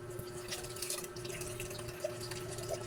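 Water running from the faucet of a newly installed water purifier, a faint steady trickle and splash into a sink with a low hum underneath, close and continuous for a few seconds.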